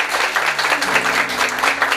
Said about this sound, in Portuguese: Pode aplaudir a palavra de Deus.